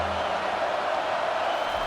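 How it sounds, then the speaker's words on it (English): A packed stadium crowd roars during a College Football 25 video game match between Nebraska and Utah, a broad, steady wall of cheering noise that holds evenly through the moment. "this crowd is tearing the lid off this place"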